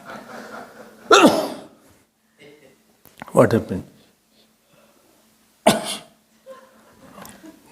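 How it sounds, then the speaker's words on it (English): A person sneezes and coughs in a quiet room on a rainy night, with two or three abrupt, loud bursts separated by pauses. Someone talks quietly at the start and the end. "Sneezing is going on."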